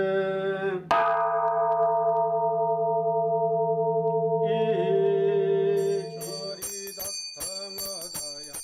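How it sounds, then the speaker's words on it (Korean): A Buddhist temple bell rings out at a quiet mountain temple, one deep resonant strike with a long humming decay, followed by a higher chime and brief clicks and taps near the end. "고즈넉한 산사에 종소리가 울려 퍼집니다."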